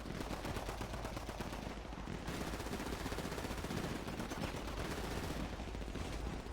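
Sustained rapid gunfire from a shootout in a Turkish historical roleplay video game, with dense overlapping automatic bursts and shots running continuously at steady loudness throughout.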